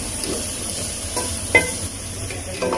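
Chicken sautéing with ginger garlic paste in a pan for chicken gravy, a steady low sizzle broken by stirring scrapes and a sharp utensil clink, with no voices.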